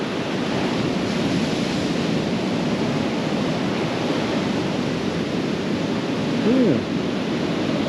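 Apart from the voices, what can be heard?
ocean surf waves on a beach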